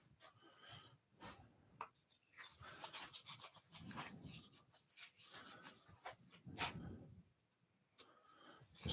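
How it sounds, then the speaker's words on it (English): Hand-deburring a freshly drilled center hole in sycamore wood for a German nutcracker, giving irregular rasping, rubbing strokes in uneven bursts, close and moderately loud with no talk. "Just do a little bit more deburring on that hole a second."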